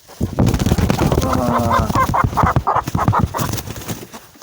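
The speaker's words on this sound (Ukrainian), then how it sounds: "Да, це курочка Саша!" Chickens cluck in a backyard poultry yard, a rapid run of close, loud clucks and squawks over several seconds with no speech.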